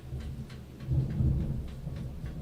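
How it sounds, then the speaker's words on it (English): Thunder rumbling through a heavy rainstorm in El Cajon, California, a low rolling swell that builds and fades over steady rain, heard alone with no talking. "There is thunder."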